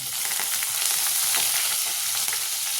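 Garlic cloves and curry leaves sizzle loudly in hot tempering oil with cumin, a bright, continuous crackle and spatter close up that stays steady and dense with no talking over it.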